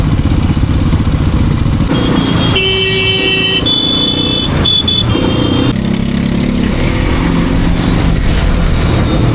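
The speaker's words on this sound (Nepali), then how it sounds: "4 नम्बरमा बाइक उठिरहेको रहेछ" A new motorcycle rides along in fourth gear with a steady, loud engine drone throughout, plus passing traffic noise and a few brief horn-like tones partway through.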